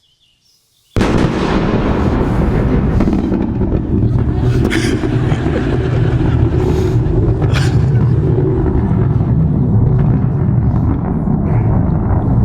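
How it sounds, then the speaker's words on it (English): Sonic boom from a Falcon 9 booster landing, heard from 5 miles away, a sudden sharp onset followed by a long sustained rumbling roar with crackle that holds steady for over ten seconds. "the video I'll play you features an undergrad researcher hearing his first sonic boom 5 miles away from a Falcon 9 landing zone"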